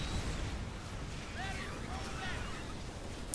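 Massed siege tanks exploding in a StarCraft II match between Zerg and Terran players, a dense continuous roar of blasts and bursts with rising and falling whistling effects throughout.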